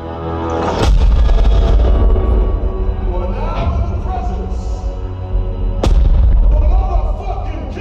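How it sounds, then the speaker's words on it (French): Heavy booming gunshots and punches on a punching bag from an action film played loud through a REL Predator HT/1508 sealed subwoofer, deep and chest-thumping, with a big hit near the start and another later amid clatter. "les coups de feu qui vous résonnent directement dans le thorax"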